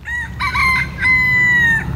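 A rooster crows loudly and close on a town street in Fitzgerald, Georgia, two long drawn-out calls, the second held steady, over faint background noise.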